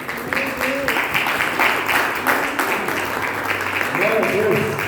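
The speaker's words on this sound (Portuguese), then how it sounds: "Vamos dar uma salva de palmas" Applause from a church congregation, quick rhythmic claps from many hands running continuously under loud talk and a sung or spoken voice.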